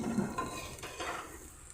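A spatula stirs and scrapes food seasoned with a little sugar and salt around a frying pan, giving a soft sizzle with brief metallic scrapes, close by and with no talk.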